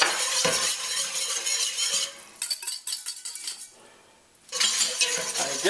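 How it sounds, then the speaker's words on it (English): Whisk scraping and clinking against a pot as cornstarch is stirred into simmering chow chow sauce with cloves and grated ginger, brisk metallic rattling in bursts with a brief quieter pause, close and alone. "I'm gonna whisk in that cornstarch."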